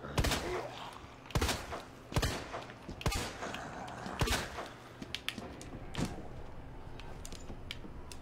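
Gunshots ring out in the Resident Evil 2 video game, a series of sharp, loud reports spaced about a second apart, with a few quicker, fainter shots toward the end over a steady low game hum.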